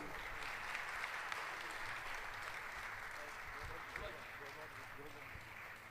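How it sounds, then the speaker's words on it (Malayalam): Steady applause from a crowd at an honoring ceremony, dense clapping holding at an even level throughout with voices mixed in. "നിറഞ്ഞ കയ്യടികൾ രണ്ടുപേർക്കും"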